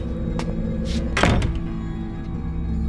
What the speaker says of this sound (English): before I closed the door